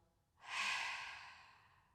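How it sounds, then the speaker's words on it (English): A single long, deep breath exhaled during a calm Pilates session, a soft airy rush that swells quickly and fades slowly over about a second and a half, close and alone. "So we're going to take a deep breath in. Good, and fully exhale."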